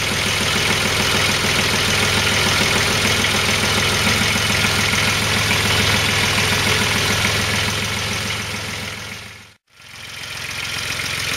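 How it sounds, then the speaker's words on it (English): A small Kubota tractor with a roughly 700cc diesel engine idles steadily at a low tick-over, a close, even knocking rhythm running throughout and cutting out briefly near the end before resuming. "Sweet little engine, it's only 700cc or so"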